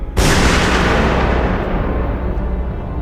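A single loud gunshot in a TV drama flashback booms close and heavy, its long rumbling echo slowly fading away.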